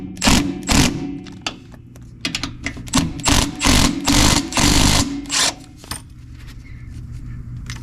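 A ratchet wrench tightens the bolts on a car's shock absorbers on a Pontiac LeMans. Bursts of quick, close metallic clicking come in uneven spurts with short pauses between them.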